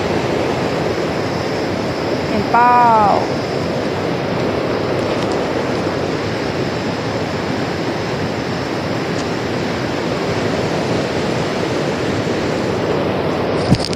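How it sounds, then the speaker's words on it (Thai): A small roadside waterfall in Mae Hong Son gives a loud, steady rush of falling water. A short voice-like call rises briefly over it early on. "เห็นน้ำตกเลยน้ำตกเล็กๆ"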